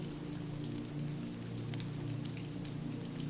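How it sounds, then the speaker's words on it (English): Rain patters steadily on old windows, a soft, dense, even hiss with faint scattered drops, continuous and low in level, with no voices. "the rhythmic patter of rain"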